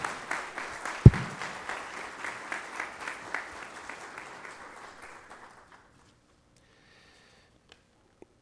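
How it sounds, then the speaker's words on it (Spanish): Conference attendees at a Mexican legal panel on outsourcing give warm applause to the lecturer Gilberto Chávez Orozco; a crowd claps with one sharp knock near the start, then the clapping thins and dies away, leaving near silence with a few faint ticks. "Recibamos con un caluroso aplauso a nuestro conferenciante, maestro Gilberto Chávez Orozco."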